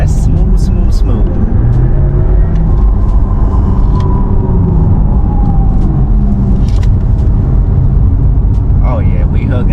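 A Porsche Taycan electric car, heavy at nearly 5,000 pounds, rolls hard through a curve with a loud, constant road rumble and tire roar, while voices talk over it.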